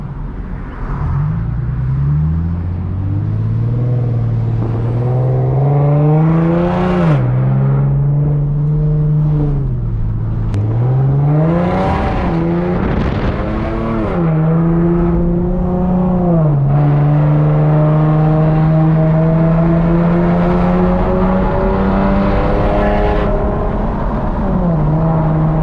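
Infiniti G37x with a muffler and resonator delete, its engine revving hard in repeated climbing and falling sweeps, loud and close, with a raspy harmonic exhaust tone and no talking.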